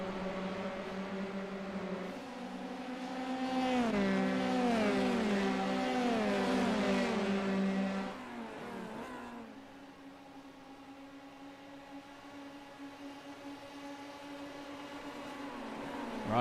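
Formula 3 race cars lap Interlagos in a racing video game, with several engines whining together as pitches climb and shift through gears, then one car's steady drone carries on after the pack passes.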